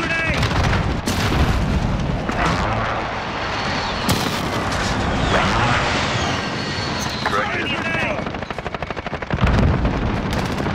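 A called-in artillery strike in Call of Duty: Modern Warfare, heavy booming blasts landing in bursts among gunfire and aircraft rumble, with loud impacts near the start, middle and end.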